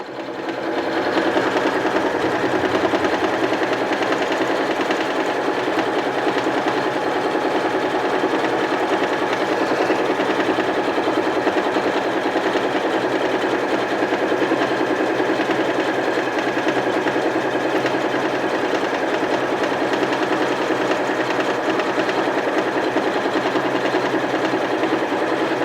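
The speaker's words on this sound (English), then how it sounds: "We're nearing toward the end of our design, so it's going to do one more of these design patterns and we'll be ready to stop the machine." A domestic sewing machine driven by a Grace Quiltmotion automated quilting system hums in a steady, loud mechanical whir that runs without a break, with no voices.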